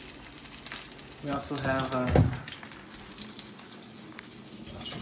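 Steak sizzling and frying in a pan, a steady crackling hiss close by with someone speaking briefly over it.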